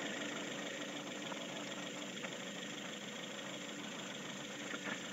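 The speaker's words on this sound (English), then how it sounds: "car is idling at about 750 RPM." A 1998 Mazda 626 engine idling roughly at about 750 RPM, a steady, faint, mid-pitched drone with a slight uneven pulsing and light knocking, recorded close and without speech.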